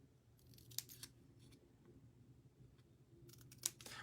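Scissors make a few faint, quiet snips while trimming paper for a lip balm holder, brief crisp cuts spaced apart over a soft background.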